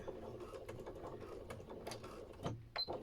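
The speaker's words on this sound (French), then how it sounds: "je viens faire une couture au ras du passepoil pour coudre toutes les épaisseurs ensemble" A sewing machine stitches along the piping of a fabric headphone cover through several layers, making a steady close mechanical whirr with a sharper clatter near the end.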